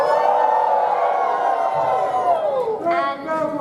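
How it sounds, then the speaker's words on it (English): A convention panel audience cheers and whoops loudly, a sustained wash of overlapping voices shouting together, with some individual cries rising above the crowd near the end. "please raise your hoof and cheer loudly"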